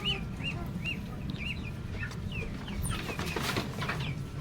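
Chicks cheep on a farm in a series of high, rising peeps, repeated every half second or so over a low rumbling background, with a denser burst of calls near the end.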